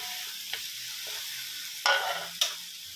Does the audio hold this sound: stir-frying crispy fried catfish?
yes